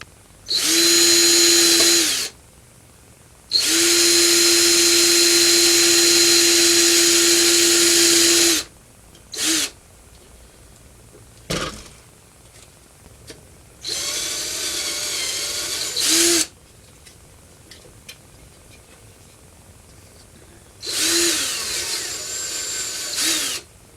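A power drill whirs loudly in several bursts, some long and some short, drilling holes in a plastic model kit, with quiet pauses and small clicks between runs.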